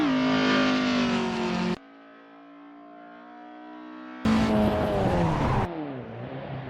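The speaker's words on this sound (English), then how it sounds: "The Opel slips, but Mig's not letting go" An Opel Kadett race car on a track, engine howling and dropping in pitch as it slides, with tires squealing through a skid, loud and close, a quieter lull midway before the roar returns.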